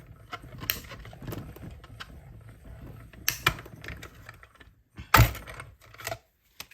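Die-cutting machine running a cutting plate through white cardstock to cut a small label, heard as a series of close mechanical clicks and clacks with a few sharp louder snaps, no voices.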